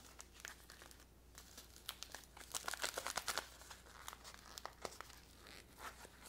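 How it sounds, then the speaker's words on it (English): Sharp, irregular crinkling and rustling of a plastic-lined paper MRE pouch being handled up close, in quick bursts that build to a dense flurry in the middle and then taper off. "Plastic lined paper pouch."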